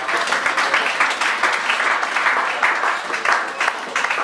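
A church congregation claps together during a service of songs, a steady dense burst of many hands that holds at an even level from start to finish with no voices over it.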